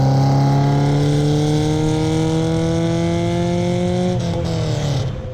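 A Ferrari Dino 208 GT4 V8 revving hard toward 7,700 RPM holds a loud, sustained scream whose pitch climbs slowly before dropping away at the very end.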